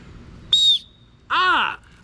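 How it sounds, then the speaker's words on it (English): A small whistle built into the back of a survival kit eating utensil gives two short shrill toots, the second slightly longer and warbling, close and loud against quiet room tone. "It is a whistle."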